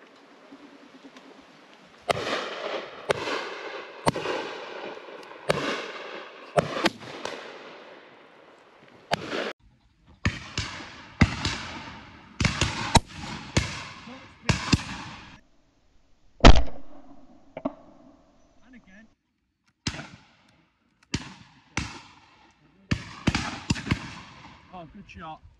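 Shotgun shots at pheasants on an Exmoor shoot ring out one after another as sharp, loud cracks, a dozen or more spread irregularly across the clip, with people talking between the shots.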